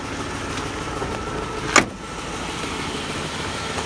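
A Pontiac Parisienne Custom Sport with a Powerglide automatic cruises along, its engine and road noise holding a steady hum broken by one brief sharp click midway.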